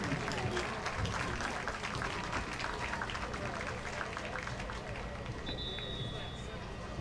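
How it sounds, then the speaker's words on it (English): A stadium crowd applauds and cheers during a high school football halftime show honoring a past championship team, a broad sustained wash of distant clapping and crowd noise with a loud announcer-style voice over it. "Let's have one more round of applause for the 2004 team."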